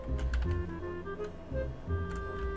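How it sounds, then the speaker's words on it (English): A Roblox emergency alarm sounds in a repeating pattern of short, faint tonal pulses with a ticking, clock-like beat throughout. "Okay, I heard you enough, alarm clock. We know it's an emergency."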